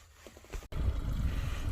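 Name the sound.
small boat engine warming up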